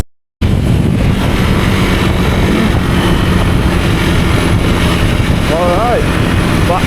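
A KTM 390 Adventure R motorcycle ridden along a road, engine drone mixed with heavy wind rush buffeting the microphone, loud and continuous after a brief silent start, with a short rising whistle-like tone near the end.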